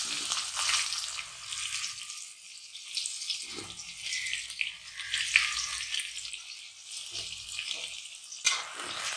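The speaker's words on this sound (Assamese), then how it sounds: "এতিয়া মই পিঁয়াজখিনি এড কৰি দিম।" Onions sizzle and fry in a hot pan of oil for a fish curry with ash gourd, a steady close hiss with soft stirring scrapes throughout and no talking.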